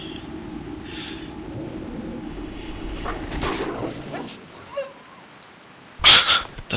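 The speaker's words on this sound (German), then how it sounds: "Das Winseln war ja richtig süß." A creature in World of Warcraft gives a few short, high whimpering whines over soft in-game rain and low rumbles, followed by a sharp burst near the end.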